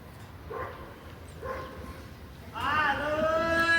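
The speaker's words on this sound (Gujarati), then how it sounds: "અત્યારમાં કૂતરા બોલે છે" Dogs bark outside a home on a calm morning: two short, faint barks spaced about a second apart, then a louder, drawn-out run of calls over steady background noise.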